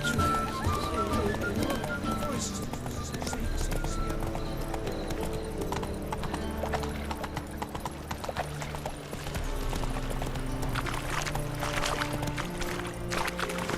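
Roach the horse from The Witcher 3 gallops with steady, fast clip-clop hoofbeats, joined by an occasional neigh and game music throughout the whole stretch.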